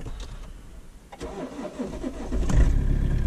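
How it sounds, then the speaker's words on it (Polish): A Webasto parking heater in a vehicle switches on during a frosty spring morning; faint mechanical clicks give way to a low rumbling hum that swells and holds steady. "I webasto jedzie. Wszystko się rozmrozi, lusterka."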